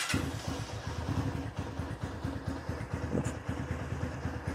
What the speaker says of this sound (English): I can go ahead and test fire the bike.